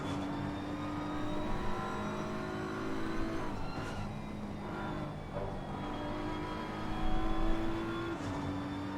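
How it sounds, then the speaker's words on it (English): A BMW GT3 race car with a deep V8 engine, from Assetto Corsa Competizione at Zolder, holds a steady drone at cruising revs, with two upshifts and a brief rise in revs. "the way that the car sounds as well, with that deep V8 noise"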